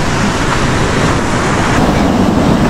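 Strong surf and gusting wind at the shore, a continuous loud, dense roar of breaking waves and buffeting wind with no pauses and no voices.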